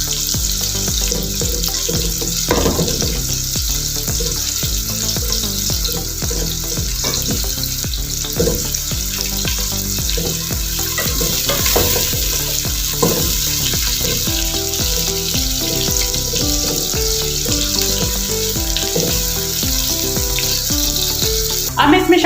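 Onions frying in a pan for saag sizzle steadily and loudly throughout, with stirring and occasional clinks, over background music.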